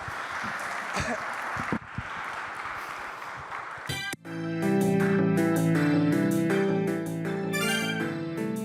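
An audience at a student game awards ceremony applauds for about four seconds, a crowd's dense clapping that then cuts to a loud, tonal music sting.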